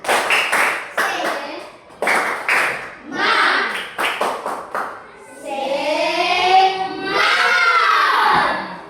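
A group of children performs the 'tepuk semangat' clap chant led by a classmate, sharp bursts of unison clapping in a rhythmic pattern, followed by loud shouted chanting from the whole group.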